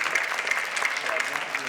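An audience claps in a sanctuary space used for a public meeting, brief continuous clapping with a voice speaking over it.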